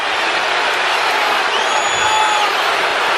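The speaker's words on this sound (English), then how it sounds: "The crowd reacting to the replay of that call on the big screen" Basketball arena crowd reacting to a replay of a call on the big screen, a loud steady roar of murmuring and cheering voices that swells slightly near the end.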